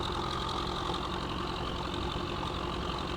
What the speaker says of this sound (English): When you feel like you're actually in a tractor.